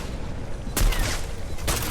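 Two sharp sniper rifle shots ring out in a Free Fire match during tournament play, one at about three-quarters of a second and another near the end, each a loud broadband crack over a steady game-noise bed.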